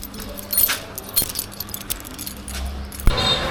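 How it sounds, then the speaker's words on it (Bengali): A set of motorbike keys jangles briefly as they are tossed down outdoors, a few light metallic clinks rising over faint background ambience with no talk. "বাইকের চাবিটা দাও"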